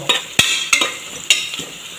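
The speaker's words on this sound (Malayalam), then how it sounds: "എണ്ണ നല്ല ചൂടായി നമ്മൾ ചെറുജീരകം" Cumin seeds frying in hot oil, with a spoon or spatula scraping and clinking against the pan in several distinct strokes over a close, crackling sizzle, and no voices.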